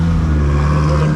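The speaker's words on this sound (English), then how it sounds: "Wide arch Mr. 2 arriving, another Mr. 2" A wide-arch Toyota MR2 rolls into a car show, its engine a loud, steady low drone held close throughout a brief moment.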